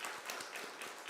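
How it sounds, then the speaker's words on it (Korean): A church congregation applauding in welcome during a Sunday worship service, a steady, continuous patter of many hands clapping with faint rhythmic peaks throughout the brief moment. "우리 환영의 박수 드리겠습니다"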